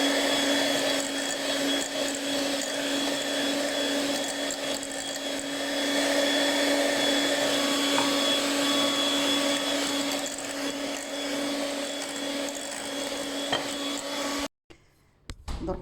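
An electric mixer beating sugar and eggs for nougat, a steady, loud motor whine with a constant pitch that runs unbroken before cutting off abruptly near the end.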